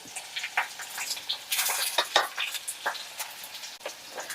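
Small onions and curry leaves frying in hot oil for a dried anchovy (nethili karuvadu) fry, giving a close, lively crackling sizzle with bursts of spattering and light stirring throughout.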